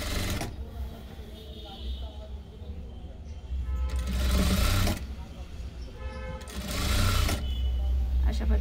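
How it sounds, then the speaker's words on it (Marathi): Sewing machine stitching blouse fabric, with close mechanical whirring that runs in several bursts separated by short pauses, and a person talking in between and over it. "त्याच पद्धतीने स्टिच करून घ्यायचे."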